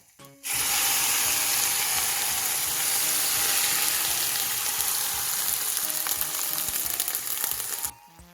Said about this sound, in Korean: 대파 위에 이제 소스를 부어주시면 돼요